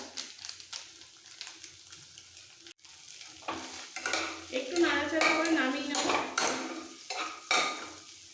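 Three eggs fry in a pan for mixed fried rice, a sharp rising sizzle with clattering spatula strokes and metal scraping against the pan, quiet at first and then loud and busy.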